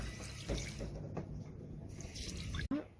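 Running tap water splashes steadily into a sink as something is rinsed underneath, a soft, close trickling wash with a brief break near the end.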